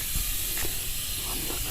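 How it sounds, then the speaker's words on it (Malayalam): A steady, close hiss of escaping steam from a pressure cooker cooking chickpeas on the stove runs unbroken with no voices. "കുക്കറിൽ കടല അടുപ്പത്ത് വെച്ചിട്ടുണ്ട് വിസിലടിക്കണം"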